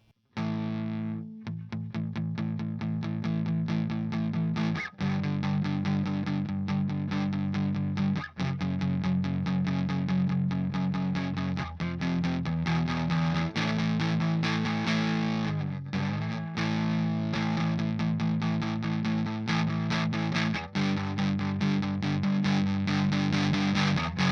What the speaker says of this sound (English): So this is now getting into distortion, borderline fuzz territory.